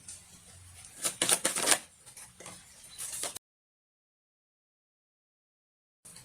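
Tarot cards are shuffled briefly with soft riffling and flicking, followed by a few seconds of silence before a faint resumption.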